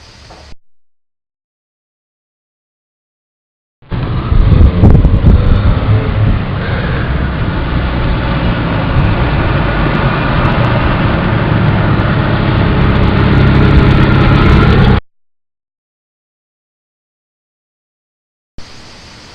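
A car loaded with three occupants drives steadily for a stopping-distance test, its engine and road noise a loud continuous rumble for about eleven seconds, with silence before and after.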